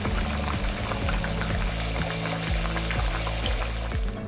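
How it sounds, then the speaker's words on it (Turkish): A pot lid rattles in quick regular taps over the bubbling and hiss of simmering Turkish papaz yahnisi stew, close up, steady throughout. "Hemen şu tıkırdayan tenceremin kapağını açtım."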